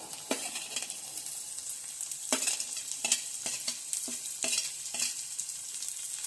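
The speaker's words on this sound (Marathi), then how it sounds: "मस्त लाल होईपर्यंत आपण त्याला हलवून घेऊया। कांदा टाकून घेऊया।" Onion frying in a pan for Maharashtrian matki curry, with a spoon stirring in repeated scraping strokes over a steady close sizzle.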